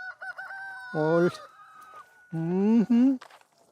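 Chickens on a farm calling while being fed peach pieces and handled, with clucks and rooster-like crowing bursts in two loud harmonic calls; a person speaks softly around them.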